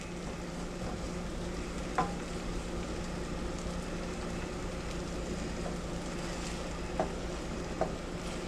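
Scrambled eggs with radish greens sizzle steadily in a hot pan, a constant close frying hiss with a few faint clicks of a utensil against the pan.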